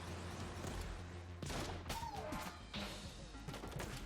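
Rapid gunfire from the Enter the Gungeon video game with the Advanced Gungeons & Draguns mod, a dense, steady barrage of shots and impacts heard at a low level for the whole stretch.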